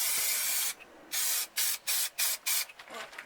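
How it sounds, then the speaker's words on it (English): A spray can puts paint onto a cover surface in close, hissing bursts: one long spray first, then a quick series of about five short puffs separated by silent gaps. "So, just spray that on the surface of the cover."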